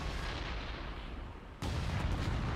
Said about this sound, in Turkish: bu da iyi patladı be.